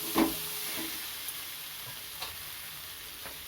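A fried egg is stirred into masala in a pan for a low-oil egg tarka, a quiet sizzle with a few spatula taps and scrapes spread across the stretch.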